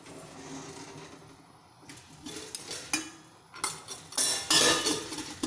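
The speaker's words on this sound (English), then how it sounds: "So now let me add mustard seeds" Mustard seeds, two spoonfuls, tumble into a pan for khaman dhokla, giving a run of light clinking, rattling and sizzling crackle that starts soft and grows louder and busier toward the end.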